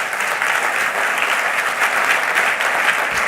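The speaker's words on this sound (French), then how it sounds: "Vous m'avez applaudi moi, mais non." Steady, dense audience applause fills an awards ceremony hall, many hands clapping together at an even loudness for a few seconds without a break.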